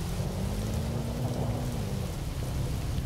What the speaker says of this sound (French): Il pleut, c'est pas grave.